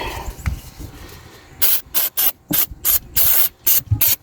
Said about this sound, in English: Gets a little spray.